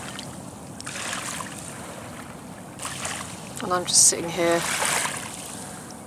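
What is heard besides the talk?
water lapping up on a small beach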